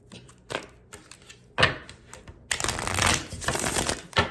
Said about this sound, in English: I'm going to get 3 clean shuffles from this deck